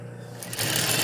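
A sewing machine stitches fabric for a multipurpose holder: quiet at first, then a loud, fast, steady whir starts about halfway through and runs to the end.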